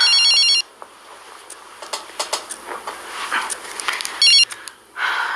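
A telephone rings in two short electronic bursts, one at the start and one near the end. Between them come soft clatters and small knocks like handled dishes or objects, with no talking.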